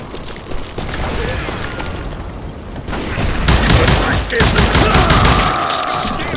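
Rapid gunfire in Call of Juarez Gunslinger, a loud, dense fusillade of overlapping shots with booming low rumble throughout, close and continuous with no pause.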